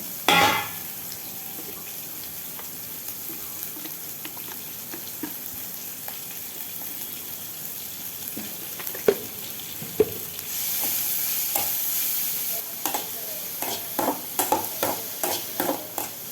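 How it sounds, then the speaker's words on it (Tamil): Onions frying with salt in a pan give a continuous low sizzle while a spoon scrapes and stirs now and then, ending in a run of quicker metallic taps and scrapes near the close. "ஆனியன் சேர்த்துட்டு ஆனியனுக்கான உப்பை ஆட் பண்ணிவிட்டு நல்லா வதக்கிட்டுக்கோங்க."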